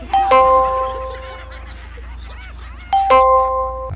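A two-tone ding-dong doorbell rings twice, a few seconds apart, clear and close, with quiet room noise and faint movement between rings.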